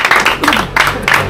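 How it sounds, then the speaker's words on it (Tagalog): Hands clap in a quick, steady rhythm, several sharp claps in just over a second, close and fairly loud, with no talking. "Palakpak ka na."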